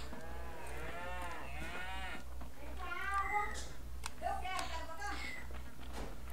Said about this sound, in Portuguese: Ih, Vinícius, o gato ficou preso aqui, ó.